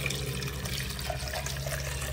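Water pours steadily into a blender, a continuous rushing stream close by with no talking.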